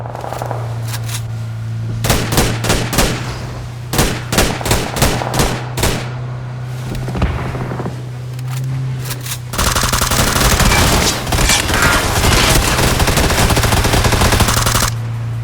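Gunfire in the battle royale game PUBG, set in a blizzard: sharp single shots in quick succession, then a dense stretch of rapid automatic fire, loud and close over a steady low hum.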